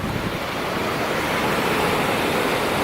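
Ocean surf washes steadily on a beach by a resort, a loud continuous roar of breaking waves mixed with wind buffeting the microphone, with no voices.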